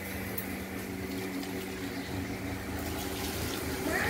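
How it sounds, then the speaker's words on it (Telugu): Water runs steadily while a motorbike is washed at home, a constant splashing hiss lasting throughout at moderate level with no voices. "ఈ బండి కూడా కడుగుతున్నావు"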